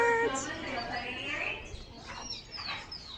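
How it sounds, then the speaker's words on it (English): Finches in a large outdoor aviary at a bird farm give scattered high chirps and tweets, heard fairly close but fairly quiet, mixed with people talking. "This is a nice, huge aviary. Wow, look at these birds. A lot of finches."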